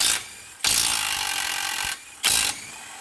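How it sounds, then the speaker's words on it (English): Two bursts of loud impact-tool whirring, a long one then a short one, spinning off 17mm fasteners during a wheel bearing replacement on a 2014 Toyota Venza, with quiet gaps between. "Grab yourself a 17mm and then hammer off these fasteners here."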